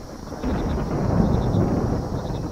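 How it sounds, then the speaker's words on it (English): Thunder rumbles low and steady through a stormy horror video game scene, with a dense wash of rain-like noise and a faint electronic tone above, no voices present. "Like a good thunderstorm."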